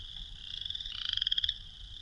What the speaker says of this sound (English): Meet the western chorus frog.